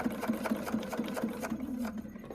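A sewing machine stitches along a strip of satin ribbon on a handmade Christmas card, its rapid, even chatter close and steady, easing off near the end.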